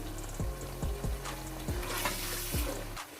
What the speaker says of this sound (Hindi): इन टमाटर्स को नरम होने के लिए छोड़ देते हैं और लहसुन अदरक का पेस्ट उसको भी अच्छे से भून लेते हैं